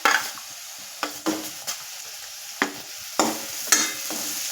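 Peanuts, garlic and green chillies being stirred in a pan with a metal ladle: a series of irregular scraping strokes and clinks over a soft frying sizzle, close and fairly loud, with no talking.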